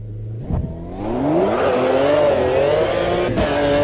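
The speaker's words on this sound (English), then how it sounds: "engine sounds very nice in the car" A McLaren F1 GTR racing car from the GT1 series, about 6 liters, in the Automobilista 2 sim, revs up after a brief blip and holds a loud, steady engine note that climbs and wavers, with a short shift dip near the end.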